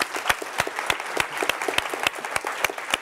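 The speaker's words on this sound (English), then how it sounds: "I'm going to ask everyone to join me in a huge round of applause." A room full of people gives a round of applause at an event about developing life-saving products. A few distinct, evenly spaced claps ring out sharply over a softer wash of clapping from the rest of the crowd.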